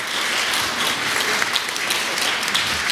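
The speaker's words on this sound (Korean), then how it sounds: "큰 박수로 환영해 주시기 바랍니다." Steady, dense audience applause fills a lecture hall as a speaker on international affairs is welcomed to the stage, sustained and even throughout without any talking.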